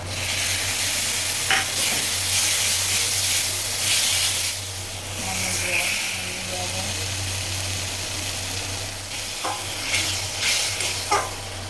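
Cumin, coriander and tomato frying and being stirred in a pan, a steady loud sizzle and hiss with occasional scraping of the spoon and a constant low hum of a kitchen fan.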